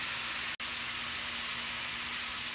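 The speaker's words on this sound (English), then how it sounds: "the onions and the green pepper are cooking" Onions and green pepper cooking in a pan give a steady, even sizzle and hiss, close and continuous with one brief dropout, and no voices.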